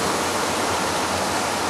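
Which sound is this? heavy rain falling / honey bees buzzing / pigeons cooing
heavy rain falling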